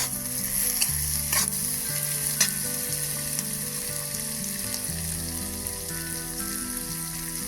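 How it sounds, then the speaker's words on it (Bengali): Onion and capsicum sizzle loudly while frying in a pan for a cauliflower chili, a dense, steady crackle that continues without a break and with no voices. "দেখুন পেঁয়াজটা হালকা হালকা আর ক্যাপসিকামটা ভাজা হয়ে গেছে।"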